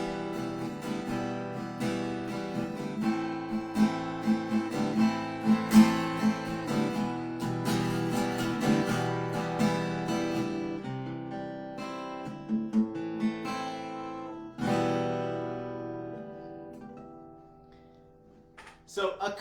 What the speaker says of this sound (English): The acoustic guitar sounds like this.